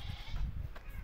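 A Beetal goat bleats once, briefly, at a goat farm against a steady low rumbling background.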